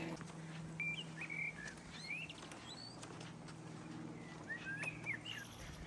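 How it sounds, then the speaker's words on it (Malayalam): Small birds sing in the woods of the Mornington Peninsula near Melbourne, with scattered high chirps and short whistled phrases over a steady, quiet outdoor background hiss. "ഇവിടെ ഇങ്ങനെ നമ്മൾ നടക്കുമ്പോൾ കുറേ കിളികളുടെ സൗണ്ടൊക്കെ കേൾക്കാം കേട്ടോ."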